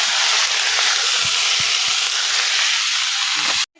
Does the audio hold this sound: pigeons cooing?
no